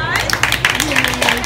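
Birthday applause at a Red Robin restaurant for a 15th birthday: a short burst of clapping from diners, close and fairly loud, mixed with voices and a sustained sung tone over restaurant background hum.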